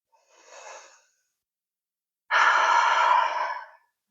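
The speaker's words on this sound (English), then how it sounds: "long exhale." Breathing during a somatic vinyasa yoga flow: a soft inhale, a pause, then a long, strong breathy exhale lasting about a second and a half, close and with no talking.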